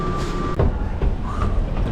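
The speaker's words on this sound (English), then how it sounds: "This train is departing." An automated airport train at Atlanta airport pulls away, a steady low rumble with a brief electronic tone at the start and a few clunks as it moves off.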